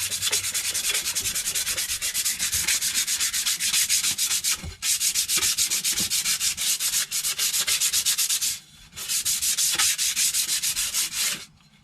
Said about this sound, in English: I'm just going to give the pipe a quick scuff with some 60 grit wet and dry